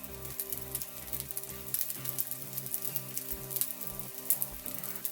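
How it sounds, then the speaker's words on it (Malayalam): Mexican rice frying in a pan with a soft, quiet sizzle and light stirring scrapes, heard faintly under a steady background of tonal music. "ഈ റൈസ് ഇങ്ങനെ നല്ലവണ്ണം മിക്സ് ആക്കിക്കൊണ്ടിരിക്കണം"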